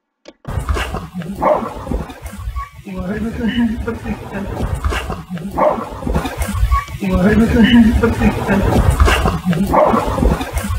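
A dog barks and yips repeatedly in uneven bursts, fairly close, with some whimpering between barks.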